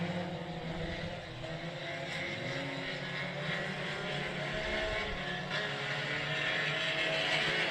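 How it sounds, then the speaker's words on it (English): Race cars circle the Cotton Bowl Speedway in Texas, giving a continuous, fairly distant engine drone with a slow swell and fade and no voices on top. "Down the back straightaway, here comes the 53 of Hesselmeyer"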